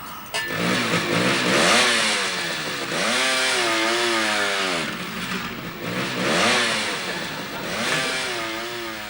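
A motorbike engine revs hard several times, a loud, buzzing whine that climbs and falls in repeated waves, close and prominent with no talk over it.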